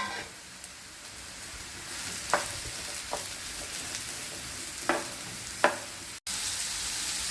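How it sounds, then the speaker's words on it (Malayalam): Ridge gourd sautés in a pan with a soft, fairly quiet sizzle, broken by a few sharp stirring knocks of a spoon against the pan, close by and without talking. "ഇതേ പാനിലേക്ക് തന്നെ നമ്മുടെ ഈരക്കായിട്ട് നമുക്കൊന്ന് വാട്ടിയെടുക്കാം"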